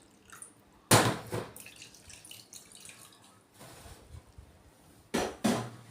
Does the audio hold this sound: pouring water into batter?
yes